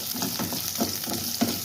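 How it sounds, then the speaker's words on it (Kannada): A large carrot frying in a pan, a continuous close sizzle with soft periodic stirring strokes. "ದೊಡ್ಡ ಗಾತ್ರದ ಒಂದು ಕ್ಯಾರೆಟ್ ಫ್ರೈ ಆಗಿದೆ ನೋಡಿ"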